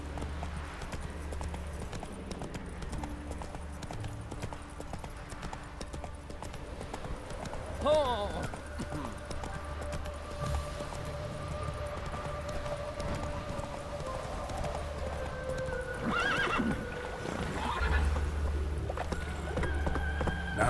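Roach the horse gallops in The Witcher 3, a continuous rhythmic clip-clop of hooves beneath game ambience and music, with spoken voices over it.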